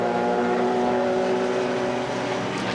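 Race cars, among them a Toyota Supra GT4, roar past at the Silverstone Festival Masters GT Trophy, a loud, steady engine drone with harmonic whine that holds throughout without any talking.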